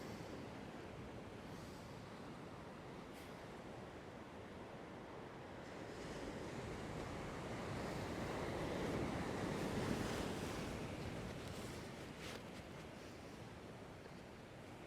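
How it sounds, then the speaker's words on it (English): Large ocean waves break against a rocky shoreline where snapper fishing is underway: a steady, dense roar of surf mixed with gusting wind noise, swelling in the middle and then easing. "you can see some bloody big waves coming through there"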